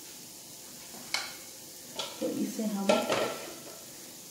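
A metal spoon stirring roasted gram flour into spring onions frying in a pan, with a few sharp clanks against the pan over a soft sizzle and scraping, and a voice speaking briefly.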